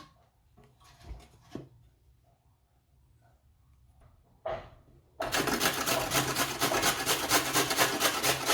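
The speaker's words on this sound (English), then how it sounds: "So I'll use this bit and grate my carrot." Half a carrot rubbed hard against the coarse side of a kitchen grater, a dense, steady rasping that starts abruptly and continues loud and close, after a few quieter handling knocks.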